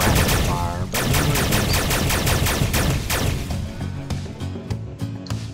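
Rapid blaster fire from a spaceship shooting at asteroids in the space game Omega Carinae, a dense stream of sharp repeated shots over a busy game soundtrack, loud throughout and thinning slightly toward the end.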